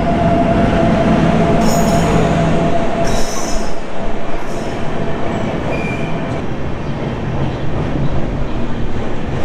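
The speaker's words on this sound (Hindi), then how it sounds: "आ चुका है दिल्ली गुवाहाटी ब्रह्मपुत्र एक्सप्रेस, तो लगभग 6-7 घंटे डिले है ये ट्रेन।" An Indian Railways express, the Delhi–Guwahati Brahmaputra Express, rolls into a station platform. It makes a loud, continuous rumble of wheels and carriages with occasional high metallic wheel squeals, and no voices are heard.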